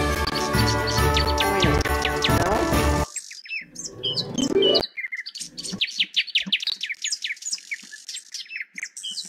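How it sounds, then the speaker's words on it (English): Birds chirp and tweet in a Minions video game. Music plays first, then bright, repeated birdsong takes over, with quick chirps sounding close and clear on their own. "I like the bird sounds."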